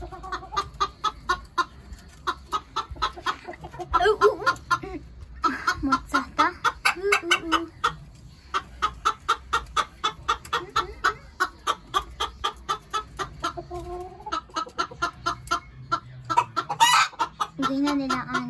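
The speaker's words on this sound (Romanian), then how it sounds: "Cheocheosul, Aurel, o găină nouă, codiță în spate, neagra." Hens clucking steadily in a rapid, repeated rhythm, close by, with a few louder squawks rising over the flock and a low background hum.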